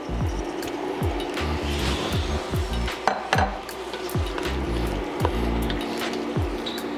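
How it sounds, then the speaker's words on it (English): Raw shrimp tip into a pot for shrimp Creole with a wet, squishy clatter and a few light clinks, close and steady over continuous background music. "Now we're gonna add this shrimp."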